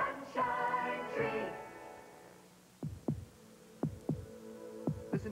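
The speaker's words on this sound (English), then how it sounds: "put yourself in today's Chevy Sprint and listen to your heartbeat" Heartbeat sound effect from a Chevrolet Sprint commercial: a run of thumping double beats, close and steady, following a few sustained tonal notes at the start.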